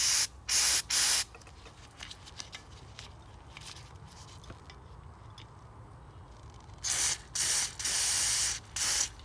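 Short hissing bursts of carburettor cleaner sprayed onto a plastic Briggs and Stratton lawn mower carburettor, three quick blasts then a quiet gap before three more bursts, the last one longer, close and loud.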